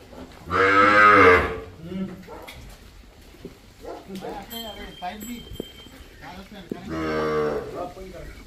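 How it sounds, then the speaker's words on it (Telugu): Young calves on a farm give two loud, drawn-out moos, one near the start and another near the end, close by, with people chatting and a faint dog sound in between. "ఇదిగోని చిన్ని లేగ దూడలు ఉన్నాయి"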